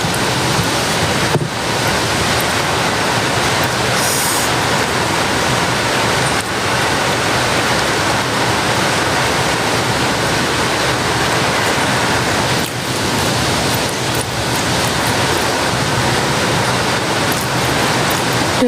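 Heavy rain driven by wind, a dense, steady hiss that fills the whole stretch, with occasional brief gusts or thumps and no voices.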